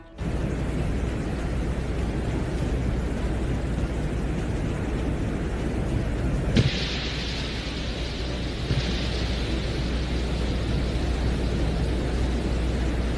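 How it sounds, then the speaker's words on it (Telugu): Sound captured on the surface of Venus by the Soviet Venera 12 lander probe: a steady, dense broadband hiss and roar that runs unchanged throughout, with one brief click partway through and no voices. "ఈ ప్రోబే శుక్రుడిపై శబ్దాన్ని రికార్డ్ చేసి భూమిపైకి పంపించింది"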